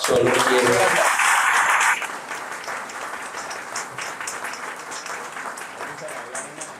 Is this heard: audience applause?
yes